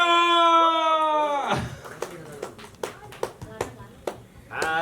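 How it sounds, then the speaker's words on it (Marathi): Sparse hand claps from a few people at a TV serial launch event, about a dozen separate claps spread out irregularly, following sustained singing voices and with more voices coming back at the end. "टाळ्या!"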